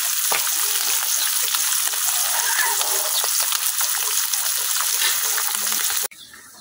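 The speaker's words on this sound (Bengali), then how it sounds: "এখন মাছগুলো আমি ভাজতে নিলাম।" Fish frying in a pan, a loud, steady close sizzle and crackle of hot oil that runs unbroken for about six seconds before cutting off abruptly.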